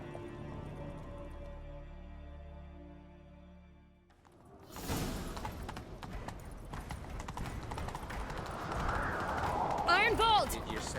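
Horse hooves clip-clop at a galloping pace in The Witcher 3, coming in after quiet music and continuing steadily, with a whoosh and in-game sounds layered over them.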